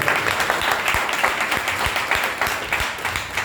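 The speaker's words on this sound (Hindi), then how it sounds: "ये हरिबोल बोलने से ताली बजाना है ट्रिगर है।" An audience claps together at a spiritual gathering, a dense, steady patter of many hands at close range, sustained without pause.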